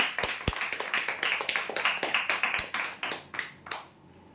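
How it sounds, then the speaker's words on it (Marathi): A small crowd claps together for a winner at a weekly prize draw, a brisk, steady patter of many hands lasting about four seconds before tailing off into quiet. "जोरदार टाळ्या उद्यासाठी"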